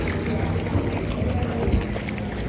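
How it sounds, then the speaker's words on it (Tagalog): A strong river current rushes steadily past, a dense, continuous churning roar with low rumble and no pauses. "Lalalim na ito mamaya kasi malakas yung agos."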